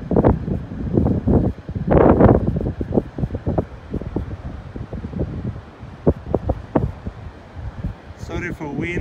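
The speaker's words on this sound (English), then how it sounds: "Sorry for wind, and it's quite windy here." Strong wind on Tezo beach in Kilifi buffets the microphone in irregular gusty rumbles, heard close and loud under someone talking throughout.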